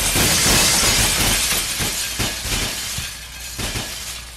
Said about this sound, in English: Ooh, glass break.